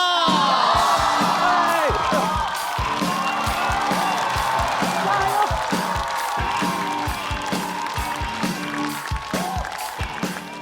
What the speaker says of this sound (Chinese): 我们掌声有请大老王！